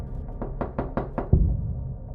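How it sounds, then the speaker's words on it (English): Knocking on a door, about six quick raps in a fast, even series followed by a heavier thud, fairly close and alone. "and the knocking grew louder."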